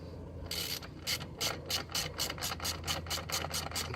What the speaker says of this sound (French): je prends une clé plate de 13 à œil que je glisse de l'autre côté et je viens ici dévisser